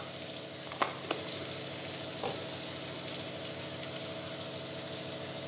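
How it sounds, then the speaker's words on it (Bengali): Salted, turmeric-dusted potato pieces fry in a pan with a steady, even sizzle, broken by a couple of sharp clicks early on and a soft scrape partway through. "আলুগুলো লাল করে ভেজে নেব"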